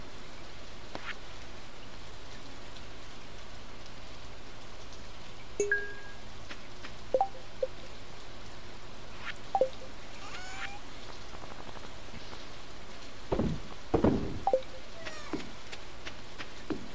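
Constant soft rain patters across a Stardew Valley farm scene while scattered short chirps and a couple of louder duck-like quacks break through near the end.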